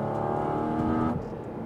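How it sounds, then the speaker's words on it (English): A Porsche GT4 RS Weissach engine accelerates hard up through the gears, a loud tonal whine climbing steadily before dropping off abruptly as the next gear engages; no speech. "That's when you take your little right foot and you give it a little bit of gas."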